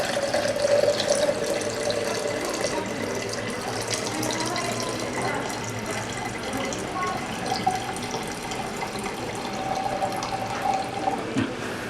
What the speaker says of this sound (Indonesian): Kemudian kita tambahkan Aquades sampai volume